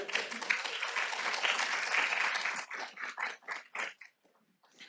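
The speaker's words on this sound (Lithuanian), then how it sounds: "Su plojimais nebūkite labai kuklus" An audience at a presentation of UNESCO cultural and arts education guidelines claps in a dense burst that thins into a few scattered claps and dies away.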